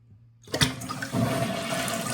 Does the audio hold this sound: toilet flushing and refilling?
yes